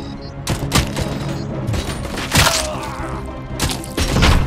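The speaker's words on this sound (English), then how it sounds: "Nice shooting, Lewis." Gunfire in the video game RoboCop: Rogue City, with several loud, sharp shots cracking out in irregular bursts and clusters over a low background rumble.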